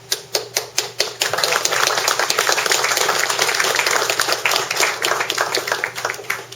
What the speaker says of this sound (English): We applaud those.